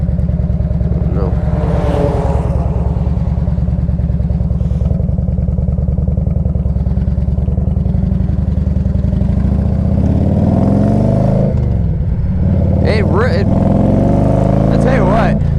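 A 1998 Harley-Davidson Electra Glide Classic idles and revs loudly up close, its low, lumpy V-twin throb steady throughout with a few throttle rises, while someone talks over it.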